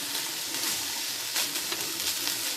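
Black beans and brown rice heat and brown in a skillet with a touch of olive oil, giving a steady, close sizzle with faint stirring scrapes and no talking.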